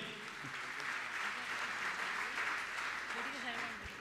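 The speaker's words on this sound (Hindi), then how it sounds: "जोरदार करतल ध्वनि" An audience at a religious gathering breaks into sustained applause, a dense, even wash of clapping that holds steady for several seconds, with faint voices mixed in.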